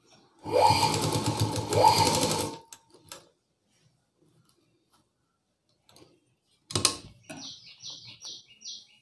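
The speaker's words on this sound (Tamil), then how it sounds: "இப்போ நம்ம இதை மடித்து வச்சு தையல் போட ஆரம்பிச்சிடலாம்." Sewing machine stitching blouse fabric in a loud two-second run, then quiet handling clicks, another short burst, and a faint high chirping at the end.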